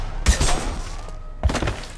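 Two heavy, punchy bursts of gunfire from Mass Effect 2, spaced about a second apart, each followed by a short ringing tail over faint game ambience.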